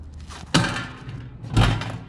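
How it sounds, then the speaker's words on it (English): Two hard whacks from a thrasher strike a steel part balanced in place, each a sharp thud about a second apart, close and loud against quiet background. "Let's go ahead and slap it with a thrasher."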